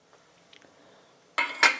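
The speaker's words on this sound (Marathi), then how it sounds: "आपण थोडासा तो एकदा हलवून घेऊयात बरं का." A metal spoon scraping and clinking against a pot while stirring cooked semolina sheera, a brief close clatter at the end after near silence.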